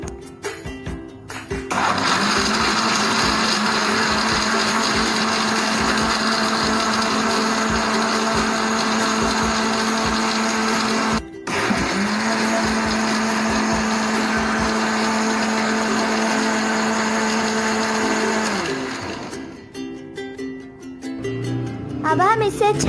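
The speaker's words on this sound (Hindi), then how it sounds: "ग्राइंड कर लेंगे।" Blender grinding a drink mixture with salt and sugar added, a loud steady motor whine running about twenty seconds with one brief stop midway before winding down.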